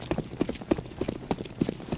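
Rapid footsteps in the Counter-Strike game on the map Train sound as quick, evenly spaced thuds at a moderate distance, with no talk over them.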